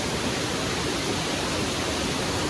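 A waterfall in Chhattisgarh roars as a dense, even rush of falling water, loud and close, with no break or voice over it.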